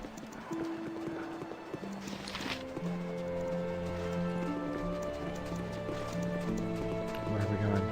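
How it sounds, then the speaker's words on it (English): Horse hooves clip-clopping in the Baldur's Gate: Siege of Dragonspear video game, a steady trotting rhythm under game music, with a horse whinny and speech over it. "Let me get on the horse and ride majestically through the town."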